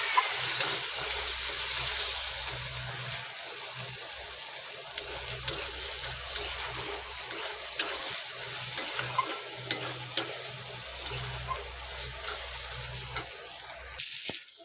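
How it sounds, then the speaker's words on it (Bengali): Spice paste (masala) with cumin powder fries in oil for a banana flower curry, a steady close sizzle with repeated scraping strokes of a spoon stirring it around the pan, no talking. "একটু জিরে গুঁড়ো দিয়ে মশলাটা খুব ভালোভাবে কষিয়ে নেব"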